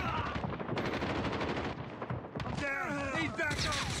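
Rapid gunfire rattles in Call of Duty Mobile, with dense bursts of shots layered over game effects and a voice talking throughout.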